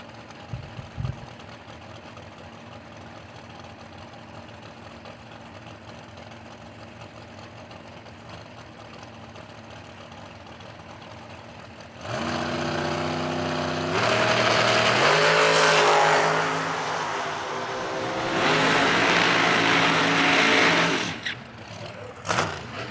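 A 2006 dragster and a 2005 dragster at a drag racing event, idling with a low steady rumble for a while before erupting into loud, roaring launches that rise in pitch, then cut off.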